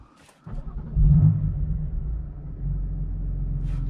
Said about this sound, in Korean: 지금 시동을 걸었는데 확실히 시동을 걸 때 배기음이 다르죠